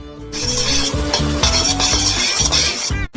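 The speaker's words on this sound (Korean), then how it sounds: "섞어요." A thick candy mixture is stirred in a pot while a giant homemade Skittles batch is being made. Close, steady scraping and stirring strokes sound alone without pause, with a sizzling, bubbling layer underneath.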